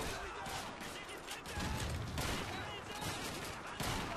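Dense rifle and weapon fire from the Call of Duty 2 video game roars continuously as a loud, crackling battle barrage, with overlapping shots and explosions and no clear gaps between them.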